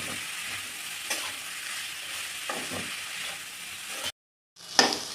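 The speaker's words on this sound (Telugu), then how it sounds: "ఇలా టూ త్రీ టైమ్స్ మధ్యలో కలుపుకోవాలండి కలుపుకున్నాక ఇలా ఉడుకుతుంది ఉల్లిగడ్డ" Onions cook over medium flame in a pan for egg bhurji, with a steady close sizzle and a few soft stirring scrapes. The sound briefly cuts to silence before a louder clatter near the end.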